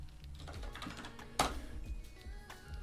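Keys clatter steadily as a command is typed on a computer keyboard, with one sharper, louder keystroke partway through, close and clear with no talking.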